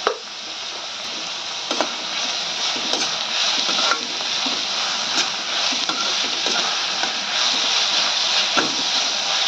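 Onion frying in a pan with salt and sliced green chilli, a steady close sizzle filling the whole stretch, broken by brief scrapes and clicks of stirring, with no talking.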